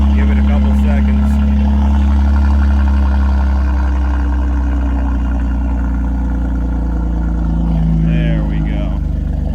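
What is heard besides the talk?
BMW X3M engine running loudly, sounds like a tractor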